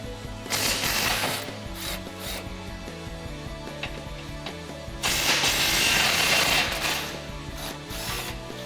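A ratchet clicks as it loosens skid plate bolts under a Jeep Gladiator JT, with bursts of rapid ratcheting and metallic rattles between them, close by with no talk.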